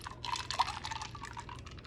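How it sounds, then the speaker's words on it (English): Chilled Irish cream liqueur poured from a bottle into a glass for an iced Irish coffee, a soft, steady trickle with small glugs, close and quiet, lasting under two seconds with no talking. "I'm going to pour that in."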